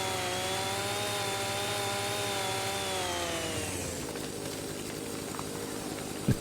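A raspy chainsaw cutting trees in a logging game roars at full throttle, then drops in pitch and fades away after about four seconds, leaving a quiet rustling bed and a small knock near the end.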